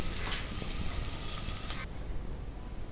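Onion frying in a pan until reddish brown, a steady close sizzle with a few stirring clinks, fading quieter partway through.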